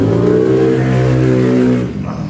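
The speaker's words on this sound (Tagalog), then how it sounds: "Ingay ng mga motor." A motor engine revs loudly and steadily with a deep, rising harmonic drone, then eases off near the end.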